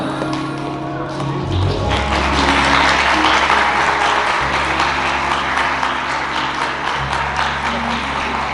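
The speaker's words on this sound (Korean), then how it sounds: "신부님께서 전달하실 때 뜨거운 박수 축하해 주시면 감사하겠습니다" Wedding guests in a convention hall burst into warm, sustained applause during the ring exchange, a dense wash of clapping that swells and holds steadily throughout, with a faint low hum underneath.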